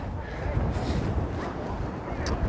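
Strong coastal wind on a beach, a constant low rumble buffeting the microphone, with faint distant sounds carried on the gusts.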